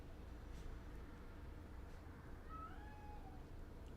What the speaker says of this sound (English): I don't know if you can hear my cat from the other room, but he is screaming for attention